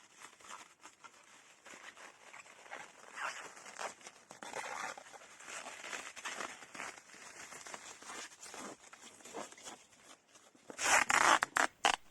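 Adhesive tape is pulled and pressed onto a cardboard box, with uneven rasping and crackling strips and then a louder, sharp tearing burst near the end. The sound is close, with no voices.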